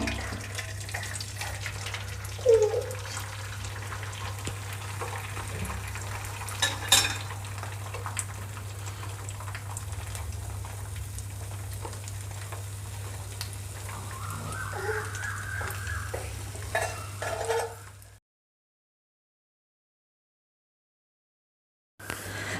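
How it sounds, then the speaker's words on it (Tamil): Beaten eggs poured through a slotted spoon into hot oil for egg podimas, frying with a steady soft sizzle and light utensil clinks, with a low constant hum underneath, then a sudden drop to silence near the end. "இந்த மாதிரி ஒரு அரிக்கரண்டி எடுத்து வச்சுட்டு இதில் பார்த்திங்க அப்படின்னா நம்ம வந்து கலக்கி வச்சுருக்கக்கூடிய எக்கெல்லாம் ஊற்றிக்க போகிறோம்"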